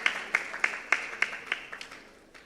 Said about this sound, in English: Please, a round of applause for M.